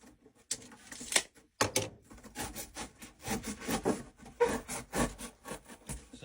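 A blade saws through a cardboard shipping box in a series of close, uneven rasping and scraping strokes with short pauses between them.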